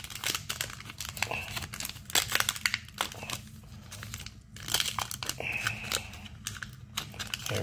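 A Topps 2021 Archives baseball card pack's foil wrapper is peeled open up close, giving quiet bursts of crinkling and tearing in irregular rustles.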